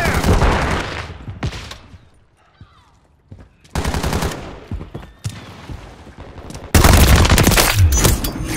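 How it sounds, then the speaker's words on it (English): Automatic weapon fire in Call of Duty team deathmatch, loud close bursts of rapid shots separated by short lulls, the heaviest sustained volley near the end, with brief game radio voices mixed in. "Taking fire!"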